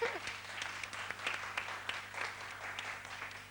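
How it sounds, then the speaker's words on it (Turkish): A studio audience on a 1993 Turkish game show applauds, a faint, steady patter of clapping heard at a distance, with a voice speaking over it at the start. "Alkışlıyoruz."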